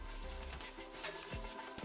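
Chicken and potatoes fry with spices in a pan, a continuous close sizzle broken by scraping stirs.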